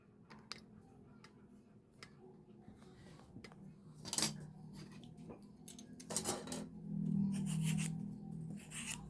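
A potato being peeled by hand, with irregular scraping and rasping strokes, some sharp and clustered, fairly close against a quiet room.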